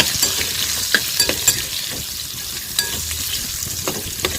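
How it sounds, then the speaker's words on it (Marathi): Ridge gourd frying in oil in a pan, a continuous crackling sizzle broken by sharp clicks and scrapes of stirring, close and steady with no speech. "आणि आता आपण दोडका भाजून घेऊया"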